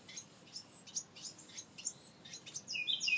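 Baby birds leaving the nest give a series of high, thin chirps, several short calls in irregular bursts that grow busier toward the end, faint and outdoors.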